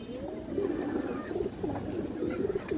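Pigeons of a good bloodline, including a set breeding pair, coo in a steady low throaty stream, close by and moderately loud, with soft background noise and no talk.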